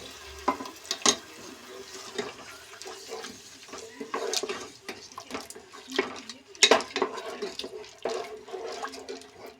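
Curd poured into a pan of sautéed ingredients, giving soft intermittent splashes, stirring scrapes and light sizzling for several seconds at close range with no talk.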